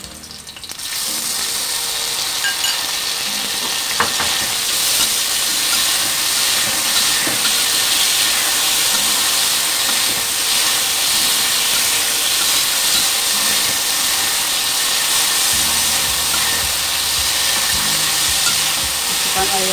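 Squid dropped into a hot pan for a stir-fry with sponge gourd, an abrupt loud hissing sizzle that keeps steaming steadily and closely for the rest of the clip.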